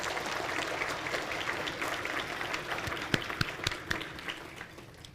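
Audience applause at a 2023 State of the City address honoring local organizations, steady dense clapping throughout with a few sharper individual claps standing out near the end.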